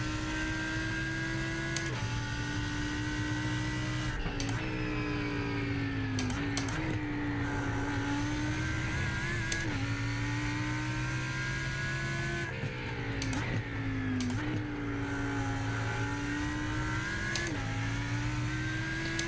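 A Lamborghini race car in iRacing, lapping Imola, its engine droning steadily at high revs with shifting pitch and brief gear-change dips, loud and continuous throughout, with no talk over it.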